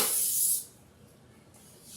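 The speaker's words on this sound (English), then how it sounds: "Just some olive oil spray." A short, close, loud hiss as olive oil cooking spray is sprayed onto a pan for cinnamon rolls, lasting about half a second before cutting off into quiet.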